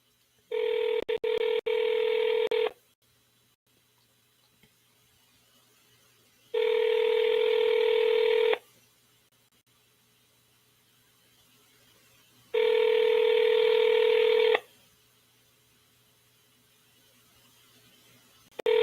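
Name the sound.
telephone dialing and ringing during seller calls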